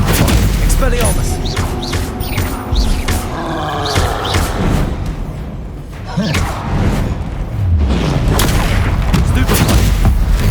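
Hogwarts Legacy combat with Stupefy and Expelliarmus spells cast in quick succession, a dense run of booming, crackling magical blasts and impacts over game music, with a voice calling out spells throughout.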